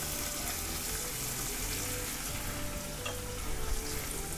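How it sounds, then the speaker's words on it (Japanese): Anchovies melting in hot olive oil alongside olives and capers give a steady, close sizzle with soft stirring scrapes, continuous and alone, with no voices. "アンチョビは炒めるというよりはこのオイルの中に溶かすだけです"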